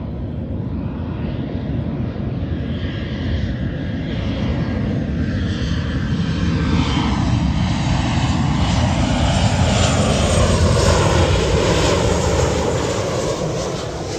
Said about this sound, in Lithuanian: Tai gaunas, kad galim pamatyti iš labai arti besileidant lėktuvą.